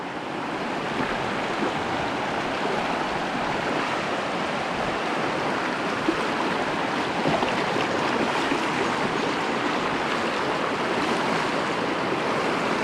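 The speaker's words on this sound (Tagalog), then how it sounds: "Medyo tahimik po ngayon ang ilog." Steady rushing water flows continuously, a broad even wash of noise with no voices, like a river running close by.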